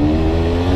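A small motor scooter engine revs loudly and close, a steady buzzing drone with a strong mechanical hum held for under a second.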